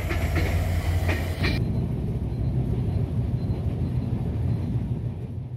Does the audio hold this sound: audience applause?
no